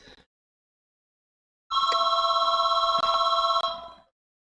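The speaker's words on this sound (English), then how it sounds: "so many phone calls interrupt" A telephone bell rings in one steady burst of about two seconds, loud and close, after a moment of silence, with a faint voice at the very start.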